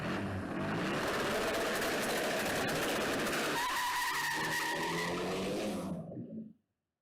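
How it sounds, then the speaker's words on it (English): A 300bhp turbo VW Beetle does a burnout, its engine roaring close and loud under a sustained screech of skidding tyres that holds for several seconds before cutting off abruptly. "I've been practicing launches ready for when I go racing again. And I was practicing actually doing a burnout."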